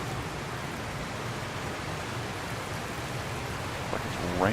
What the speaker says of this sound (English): Wow, there's water dripping from the roof.